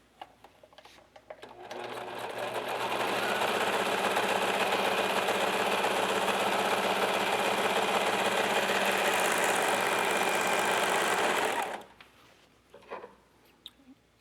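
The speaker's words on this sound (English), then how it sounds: "I'm going to serge the edge." A serger overlocks the raw edge of fabric for a children's garment, a loud, continuous high-speed whirring that runs steadily for about ten seconds, close and alone, then stops abruptly, followed by a few small clicks.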